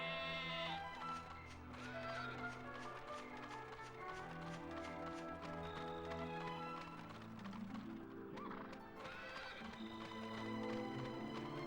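Sheep bleating over a busy game soundtrack with layered music and effects in Dragon Quest 8, the bleats repeating now and then, no talking.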